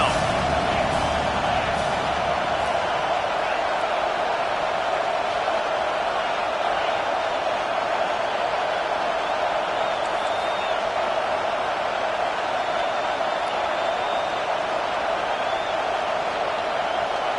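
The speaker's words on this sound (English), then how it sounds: "Decibels rising as the crowd gets behind this defense on third down." A football stadium crowd roars on third down, a dense, steady wall of loud cheering that stays constant throughout with no breaks.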